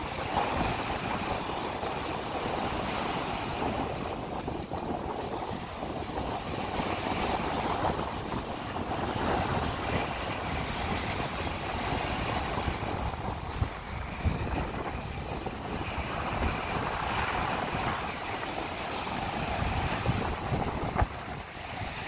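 Heavy surf rolls in continuously under steady, blustery wind buffeting the microphone, a constant roar with no voices.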